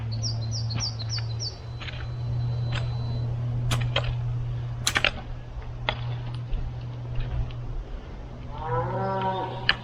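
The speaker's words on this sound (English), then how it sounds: "Bloody cows are rude, aren't they? Always butting in." Cattle moo nearby while birds chirp and tweet throughout, over a steady low rumble outdoors.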